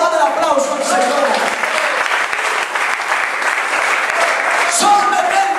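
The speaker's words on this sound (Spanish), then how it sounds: "Dale el aplauso al Señor" A congregation claps loudly and steadily at a Spanish-language evangelistic service, dense continuous applause right up close with scattered cheers and voices mixed in.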